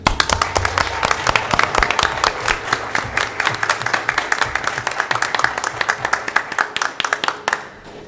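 An audience at a school board of education meeting gives a round of applause for support staff award winners, brisk crowd clapping heard close and fairly loud throughout, with a little background talk underneath.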